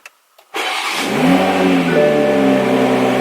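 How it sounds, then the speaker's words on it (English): An A90 Toyota Supra engine cranks and fires up loudly after a couple of clicks, settling into a deep, steady idle close by. "So now we'll go ahead and start it up"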